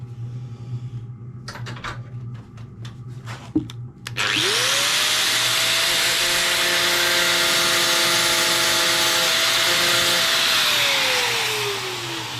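Metal grinding on a 100-year-old fuel tank under repair: a few light clicks and knocks, then a grinder spins up and holds a loud, steady, harsh whine for several seconds before it starts to wind down.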